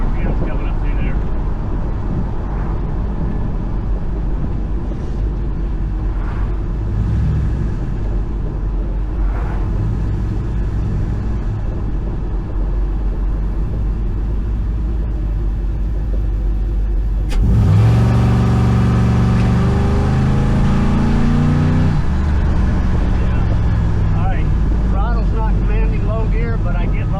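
A V8-swapped Toyota Celica with a P59 PCM and 4T65E automatic transmission pulls hard, its engine rising to about 4,000 RPM through a gear change, loud and close with a sharp surge partway through, under steady cabin noise and someone talking.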